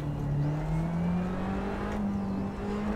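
In a racing video game, a race car engine whines upward at a steady, rising pitch as it accelerates, sounding close and continuous with no talk.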